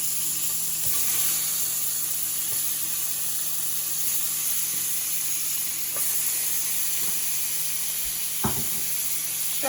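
Shrimp sizzle on a grill with lemon added, a steady close hiss of frying running through the whole stretch with a few brief clinks and scrapes, no talking.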